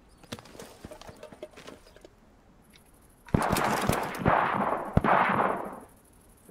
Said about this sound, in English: It sounds like there's gunshots, but I don't know where it's coming from.